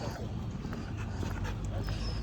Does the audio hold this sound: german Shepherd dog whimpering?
yes